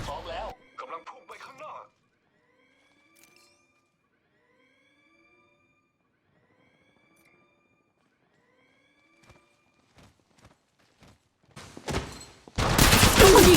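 Gunfire in the mobile game Apex Legends Mobile: after quiet stretches of faint clicks and game noises, a sudden loud burst of shots crashes in at the very end, with voices heard briefly near the start.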